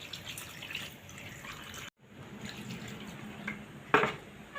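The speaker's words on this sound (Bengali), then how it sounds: "এখন ভালো করে শাকগুলো ধুয়ে নেব। অনেকগুলো জল দেব" Leafy greens (pui shak) being washed by hand in plenty of water indoors, soft sloshing and dripping with brief splashes, a short pause, then more trickling and one sharper splash, fairly quiet and close.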